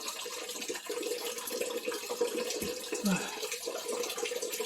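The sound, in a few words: water still running from an undrained pipe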